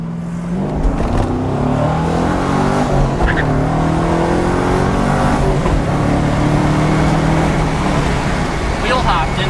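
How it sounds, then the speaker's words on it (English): A Chevrolet Camaro with a six-speed and freshly replaced mufflers pulls hard through the gears, its loud engine roar and rising harmonics filling the cabin steadily, with voices talking over it. "Wheel hopped in first when you jumped on it. Chirp second, wheel hop first, chirp second, chirp third."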